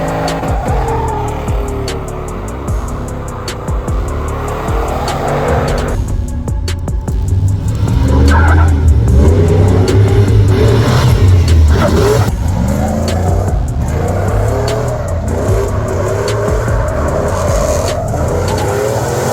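LS1-swapped first-generation Toyota Tacoma doing donuts, with a loud continuous engine roar and long tire squeals and skidding, up close.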